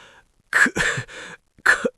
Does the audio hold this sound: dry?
yes